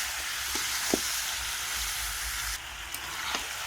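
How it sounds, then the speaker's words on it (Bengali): Chicken pieces fry with spices in a pot, giving a steady moderate sizzle broken by a few scraping clinks of a stirring spoon, and the frying hiss drops a little partway through. "দিয়ে এটাকে এবারে ভালো করে মাংসগুলোকে কষিয়ে নেবো।"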